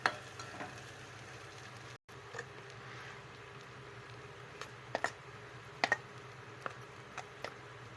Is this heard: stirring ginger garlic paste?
yes